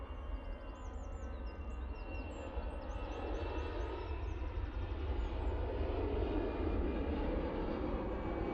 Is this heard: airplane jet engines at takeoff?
yes